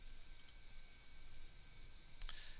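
Two quick mouse clicks on an OK button in a design program's text-import dialog, the first faint near the start and the second sharper near the end, over quiet room hiss with no talking.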